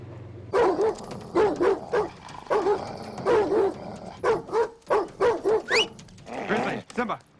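Several dogs, one named Simba, bark repeatedly in short rhythmic bursts with yips and whimpers, close and fairly loud, while a person speaks commands over them.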